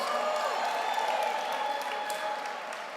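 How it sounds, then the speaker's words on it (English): Steady applause from an audience at a gala sneaker ball speaking program, a dense, even wash of many hands clapping close by that holds for the whole stretch and eases slightly toward the end. "Everybody give Kenny a round of applause."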